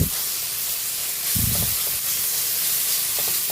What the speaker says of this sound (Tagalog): nagisa na yung ating pork, giniling